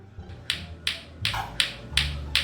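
Sharp, bright clacks from a lato-lato clacker toy repeat at a steady pace, about six hard knocks in quick succession over a low background hum, close and fairly loud.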